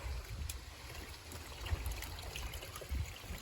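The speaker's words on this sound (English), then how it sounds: "I put them in here for their second rinse." Laundry rinsed by hand in a tub of cold water, part of off-grid washing with a washboard: low, steady sloshing and swishing with a few louder splashes, close by and with no talking.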